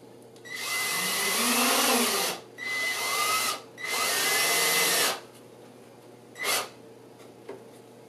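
Power drill driving a screw into a model railroad layout: three loud whirring bursts with rising and falling motor pitch, followed by a short final blip, close by with no talking.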